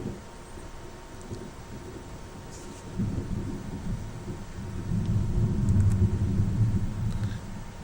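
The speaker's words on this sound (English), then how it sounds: "Boy, the thunder has moved in." Thunder rolls through a video game world during a storm, a continuous low rumble that swells after a few seconds and grows loudest toward the end, with no one speaking.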